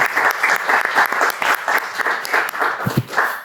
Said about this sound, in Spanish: un aplauso para ellos también, por favor